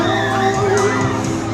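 A crowd at a town fiesta in Maria, Siquijor cheers and shrieks as Kapuso heartthrob Christopher Martin serenades the audience, a steady loud roar of voices with higher excited shouts rising through it.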